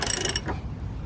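Torque wrench set to 80 foot-pounds tightening a donor crossmember on a Galant VR4, a quick ratcheting clicks burst up close, then a fading mechanical rattle.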